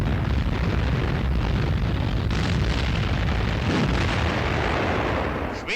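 Loud, rumbling heavy anti-aircraft (flak) gunfire with overlapping explosions, 1941 wartime footage, a sustained barrage of booms that fades slightly at the very end.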